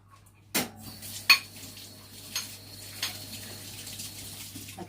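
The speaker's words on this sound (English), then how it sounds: "Okay, I've run some hot water over them." Kitchen utensils are handled under a hot water tap, a few sharp metallic clinks and clatters over a low, steady hum of running water.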